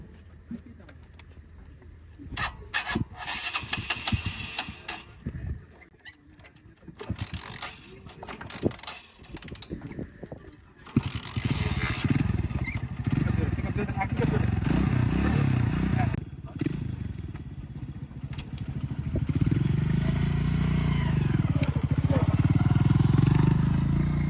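A motorcycle ridden by a trainee at a bike training centre in Aftabnagar, Dhaka, its engine rising from scattered clattering into a steady loud drone for the second half, close by with people talking.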